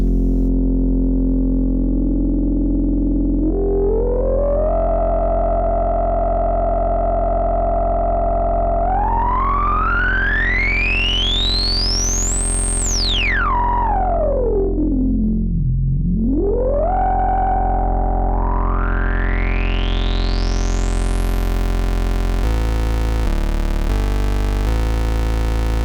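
A Moog Subsequent 25 analog synthesizer's resonant filter sweeps slowly up to a piercing whistle, plunges down, then climbs again over a steady buzzing drone, loud and alone.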